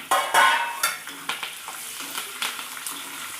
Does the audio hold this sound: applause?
no